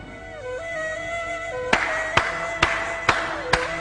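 A few slow, deliberate claps ring out in a TV drama scene, five distinct sharp hand claps spaced about half a second apart over a sustained musical background.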